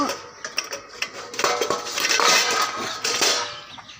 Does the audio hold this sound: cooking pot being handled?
yes